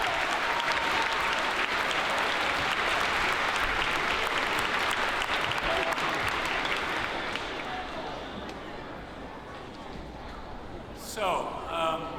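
A school gathering audience gives a big collective round of applause for its performers and speakers: dense, steady clapping that fills the room and slowly thins toward the end, with a few voices underneath.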